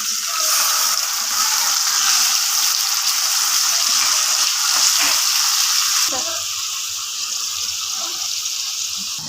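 Onion paste fries in hot oil for fish-head moong dal, a loud continuous hissing sizzle close by, easing slightly after a brief knock partway through.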